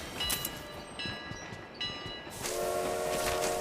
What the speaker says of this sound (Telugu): మళ్ళీ ట్రైన్ వెళ్ళిపోయింది